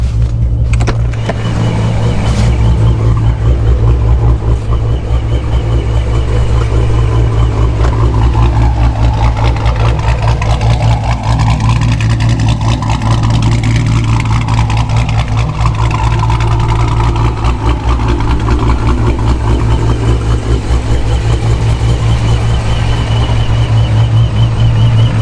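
A supercharged 426 engine running in a car with the hood closed, a steady low rumble droning continuously and loudly nearby, the blower whine barely noticeable.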